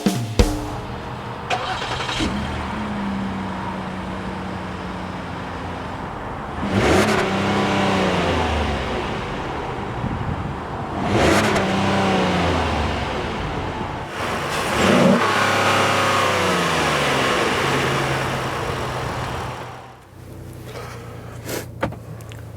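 A 2018 Ford Edge Titanium engine accelerating on the road, steady loud drone swelling in several revving surges, with a few sharp clicks toward the end.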